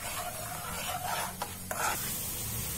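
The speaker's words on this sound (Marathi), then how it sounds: "आपण आता याला 1 ते 2 मिनिटं मिक्स करून घेणार" A spoon stirs tamarind, date and jaggery chutney in a pan, producing a steady soft scraping and bubbling hiss with a couple of brief knocks against the pan, with no talking.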